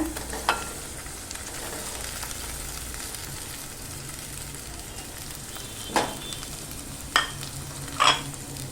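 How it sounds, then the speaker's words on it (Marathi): Potatoes tumble into a pan of frying cumin and chillies and get stirred, a steady low sizzle running throughout with a few sharp scraping clatters near the end. "आता आपण यात ना बटाटे टाकून घेऊया"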